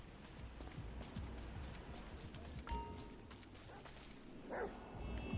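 The dog Chop in the Grand Theft Auto V video game gives a couple of faint, short barks over a steady bed of in-game ambience and footsteps.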